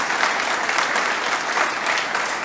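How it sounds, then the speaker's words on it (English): An audience at a State of the City address claps for Ted in dense, continuous applause, loud and even throughout the short stretch with no voices standing out. "I think we need to give Ted a round of applause."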